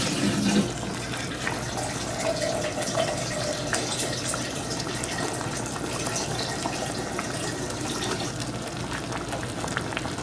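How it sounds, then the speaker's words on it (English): Water pours from a tap into a crockpot of smothered oxtails, a steady, moderately soft running and filling sound that continues without pause. "So I'm going to add a little water."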